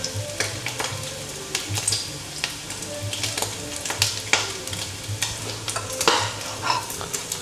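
Pork and garlic sauté in a hot pan for ginisang upo, a close, steady sizzle broken by repeated scraping and stirring clatters, with a faint dog bark briefly in the background.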